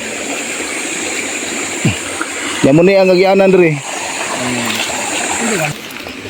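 Water flows in a small stream on newly bought farmland with coconut trees, a steady, close rushing wash running throughout while someone speaks over it.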